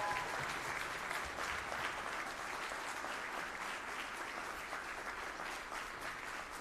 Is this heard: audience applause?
yes